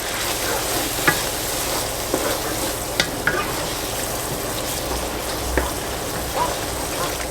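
A spoon stirs cheesy beef taquito filling in a pan, a soft steady sizzle with scattered scrapes and light knocks, close and continuous without talk.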